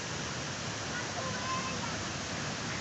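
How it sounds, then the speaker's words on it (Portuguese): Steady, close rushing roar of the waterfall at ASFRAMA along the BR-174 highway, a continuous broadband wash of falling water with no breaks. "Tá gostando da cachoeira, Davi?"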